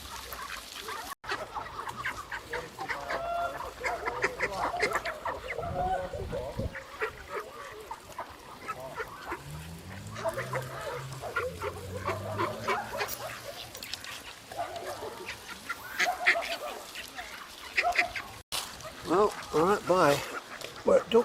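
A flock of poultry calls throughout by a river, ducks quacking and honking among clucks, with people talking at times over the birds.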